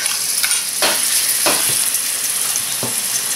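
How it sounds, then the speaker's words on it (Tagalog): Garlic sautéing in hot oil in a pan, a loud close steady sizzle with several brief scraping stirs of a spatula. "magpapainit lang tayo ng oil dito sa ating pan at magigisa na tayo ng garlic"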